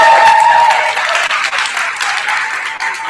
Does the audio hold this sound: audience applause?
yes